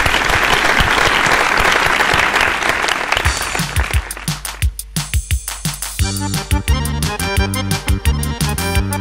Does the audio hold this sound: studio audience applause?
yes